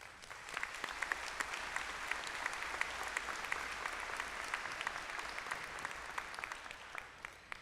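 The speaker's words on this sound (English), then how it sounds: "Please join me in applauding them." Graduate commencement audience applauding faculty and librarians; a broad, sustained wash of clapping from a large crowd, steady and somewhat distant, with no voices.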